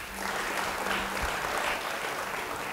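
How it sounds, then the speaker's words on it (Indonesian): A church congregation applauding during a sermon, a dense, steady wash of clapping that keeps going without any talking. "Yang setuju beri tepuk tangan bagi dia."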